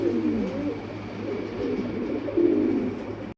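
Several pigeons coo at a pigeon seller's, with low, throaty, overlapping coos rolling on continuously and swelling louder near the end, with no talk.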